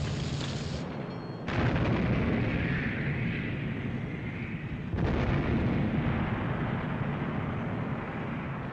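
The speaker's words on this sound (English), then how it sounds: "My God, she's firing again! With another 2 turrets!" Naval ship turret guns firing in a 1959 war film battle scene: heavy booming blasts that roll into sustained thunderous rumble, with a fresh burst around five seconds, loud and dense, no talk.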